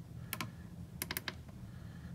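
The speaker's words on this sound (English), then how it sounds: "I just use my keyboard here to enter the position" Several quick keystrokes on a computer keyboard at a FURUNO ECDIS navigation station, two short clusters of crisp clicks over a low room hum.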